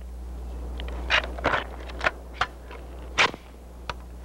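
A 1970s Heckler & Koch rifle with a telescopic sight fires single shots at a 300-meter range, several sharp, fairly distant cracks spaced about a second apart over a steady low hum.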